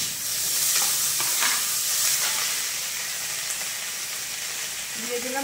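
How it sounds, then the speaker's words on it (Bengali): Pointed gourd and potato pieces sizzle loudly in hot oil in a pan as chopped ginger goes in, a continuous close frying hiss with a few stirring scrapes. "এখন পটল আলু খুব সুন্দরভাবে ভাজা হয়ে গিয়েছে। আমি এর উপরেই দিয়ে দিলাম কেটে রাখা আদা"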